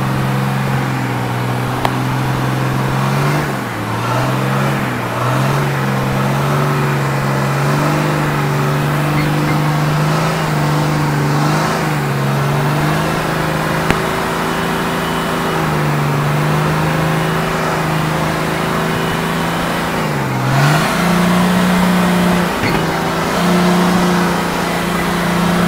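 A 4WD climbs a steep rock wall on an off-road track in the Glasshouse Mountains, its engine droning loud and close throughout, with pitch rising and dipping as the throttle works, no talk.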